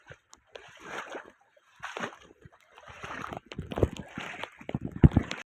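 Rainwater splashing and sloshing across a flooded farm field during rainfall, irregular bursts of splashes like footsteps wading through water, close and growing louder toward the end.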